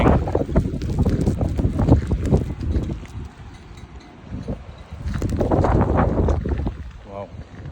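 Wind gusts buffet the microphone hard in a snowstorm, rising and falling in loud surges that roar over a low rumble.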